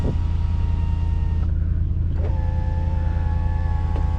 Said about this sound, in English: here's the sunroof, or the moonroof, that opens up